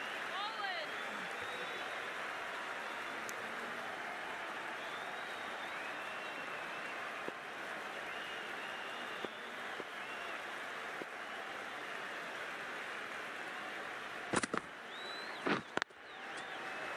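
A stadium crowd at a women's Test cricket match between India and Australia applauds after a catch, a steady, distant wash of clapping and cheering that runs throughout, with brief sharp bursts near the end under commentary.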